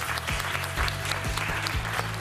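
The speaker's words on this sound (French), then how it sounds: "on continue d'applaudir pour accueillir comme il se doit Thierry Beccaro" A studio audience at the Motus TV game show claps steadily, a close and continuous wash of many hands, while a rhythmic music beat plays underneath.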